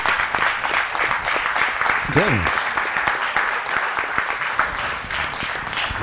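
Audience clapping fills the space at a talk or gathering, a steady sustained patter of many hands with voices mixed in and a brief spoken interjection partway through.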